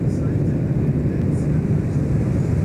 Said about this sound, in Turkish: Evet, şu anda İncirlik'ten kalkan uçaklar.